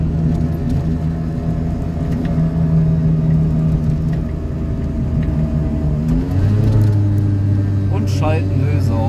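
A Piaggio Ape 50 three-wheeler drives along with its small engine droning loudly and steadily, the pitch dipping and then climbing as it revs up near the end, with the throttle unable to reach full power.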